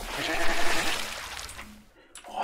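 Sheep bleating in the blocky video game MineClone5 on Minetest, a couple of loud wavering bleats up front fading out, then a short fresh sound at the end.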